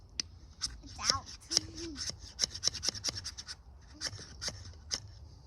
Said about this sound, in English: the coating on the spine of this knife is not going to allow it to strike a ferro rod